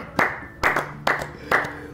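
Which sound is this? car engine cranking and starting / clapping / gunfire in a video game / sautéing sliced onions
clapping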